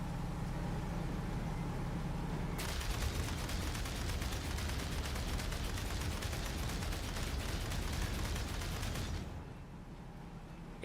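Rapid automatic turret fire in Aliens: Dark Descent erupts after a low ambient hum, a dense, continuous rattle of shots lasting several seconds before cutting off abruptly into quieter background.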